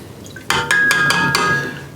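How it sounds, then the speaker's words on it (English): Spoon stirring blackberry lemonade moonshine spiked with 100 proof alcohol in a container, a handful of quick clinking strikes against the side close up, with a faint ringing tone. "Give it a little stir."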